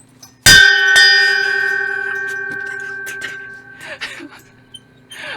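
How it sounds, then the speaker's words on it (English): A single loud strike on a ship's bell, brought home as a souvenir from Maine, rings out sharply then hums with a long, slowly fading metallic tone, followed by faint voices. "Like a ship bell!"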